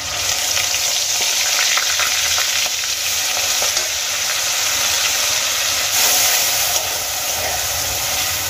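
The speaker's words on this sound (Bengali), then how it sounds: "গ্রেট করা পেঁয়াজটা আমি দিয়ে দিয়েছি।" Grated onions sizzling loudly in hot oil in a pan, with green chillies and whole cumin already fried, a steady dense crackle that holds evenly throughout with a brief swell near the end.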